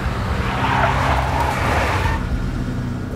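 A big black Mercedes skids in the Max Payne video game, a steady, close engine rumble under a rising tire squeal that fades out toward the end, with no voices.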